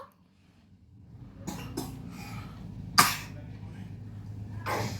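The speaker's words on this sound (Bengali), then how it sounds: "এখনো কাশি হচ্ছে।" A few separate coughs, one sharp and loud, with quiet background noise and faint voices between them.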